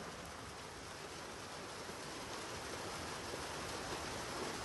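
Rain falls steadily, a dense, even hiss that builds slightly louder toward the end, with no voices over it.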